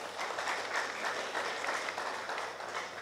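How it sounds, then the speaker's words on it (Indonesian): Audience at a university graduation ceremony in Merauke applauds steadily throughout, a dense, even wash of many hands clapping at moderate distance with no voices on top. "kita tepuk tangan untuk mereka"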